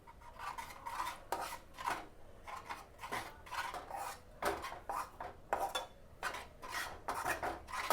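Rice flour being stirred into jaggery syrup for athirasam, a spoon scraping and rubbing against the pot in a repeated rhythmic rasp, close and fairly quiet with no talking.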